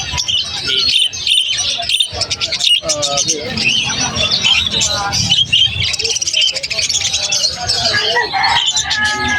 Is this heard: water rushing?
no